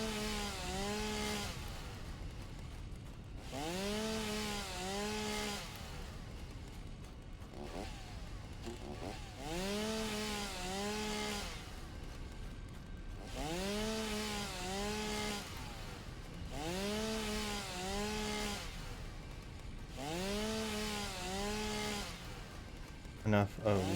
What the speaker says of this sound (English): the chainsaw does like an AoE-ish area